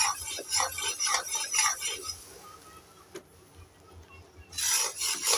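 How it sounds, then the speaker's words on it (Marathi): A spoon scrapes and stirs coarsely ground roasted chana dal into hot sugar syrup in a pan for barfi, a steady rhythmic rasping near at hand that pauses midway and then returns loudly. "त्याला छान असं ढवळून घ्यायचं आहे आपल्याला."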